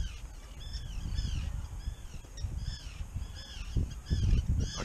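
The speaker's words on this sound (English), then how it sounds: "It's like the diving birds are fighting with the ducks over the bait." Water birds and ducks in a small boat harbor call repeatedly with honking cries, some overlapping, over steady outdoor background noise and lapping water.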